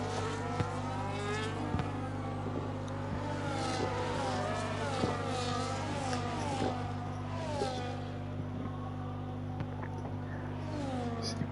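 Race cars in a sim racing game battle in a close train on a Texas circuit, steady engine drone with rising and falling whines of passing cars, tire squeals and skids, continuous and fairly loud without talk.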